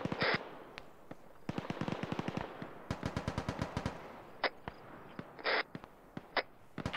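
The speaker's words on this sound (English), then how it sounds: "I have multiple ammo cans here. I think we're supposed to blow those, aren't we?" Ammo cans blow up in a video game as rapid strings of sharp popping cracks, like a burst of firecrackers, spread across the moment in uneven clusters with a few louder bangs, fairly near.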